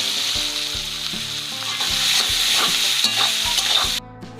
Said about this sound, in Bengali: এখন আমি পেঁয়াজ ছেড়ে দিচ্ছি